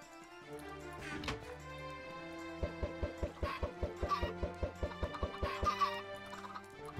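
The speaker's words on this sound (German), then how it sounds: "Damit haben wir zwei Hühner und unsere Hühnerfarm kann eröffnen." Minecraft chickens on a newly built chicken farm cluck in short, repeated bursts, with layered game music underneath and no talking.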